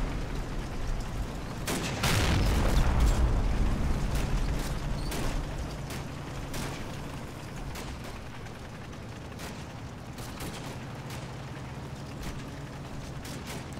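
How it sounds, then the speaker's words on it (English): Rockets exploding in the World War II game Combat Mission: Battle for Normandy, with a heavy rumbling blast near the start and then scattered sharp cracks and distant thuds of ongoing fire. "Oh my god, they're shooting rockets at us."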